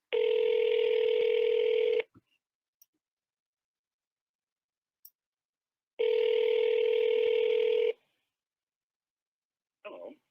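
A telephone ringback tone while calling a prize winner, two long ring bursts about two seconds each separated by a four-second silence, clear and alone, followed by brief faint clicks and a short snatch of voice at the very end.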